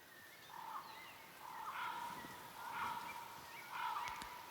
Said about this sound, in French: vous entendez des ululements d'oiseaux étranges